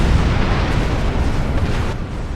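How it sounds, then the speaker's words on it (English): Weapons fire from the Heralds striking a portal in Star Trek Online, a loud, continuous roaring blast with deep rumbling that holds steady and eases slightly at the very end. "The Heralds are firing on the portal!"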